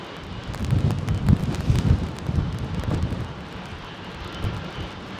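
An aircraft engine applies thrust at London Heathrow Airport during Storm Franklin, a rumbling low roar with gusts that swell and fade, heavy storm wind battering the microphone, no talking.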